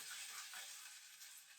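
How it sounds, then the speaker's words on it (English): Onions and garlic sautéing in a pot, a soft steady hiss and sizzle throughout, ending with a brief louder clatter. "onions and the garlic in the pot. We're going to let it saute up for about 30 seconds."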